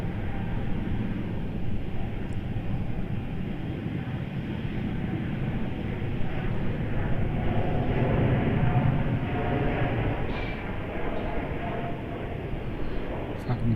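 A Boeing 787 Dreamliner taking off at Melbourne Airport, a loud continuous jet engine roar with deep rumble holding steady for the whole stretch, heard from a distance.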